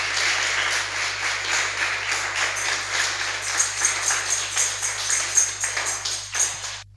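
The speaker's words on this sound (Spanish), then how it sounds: "Denle un aplauso al Señor" Rhythmic, rather sparse clapping from a church congregation, individual claps audible in a steady beat, moderately loud with a low hum underneath and no talk over it.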